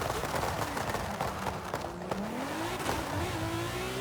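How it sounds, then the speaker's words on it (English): A race car in Forza Horizon 5 brakes hard and the engine note drops, then climbs again in rising revs, with brief tire noise over a loud continuous roar. "Slam on the brakes."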